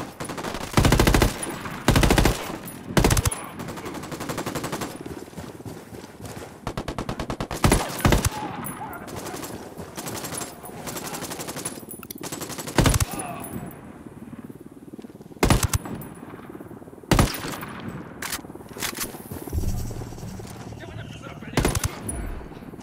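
In the video game Ghost Recon Wildlands, loud machine gun fire comes in repeated bursts and single shots over more than twenty seconds, with constant battle noise and voices talking in between.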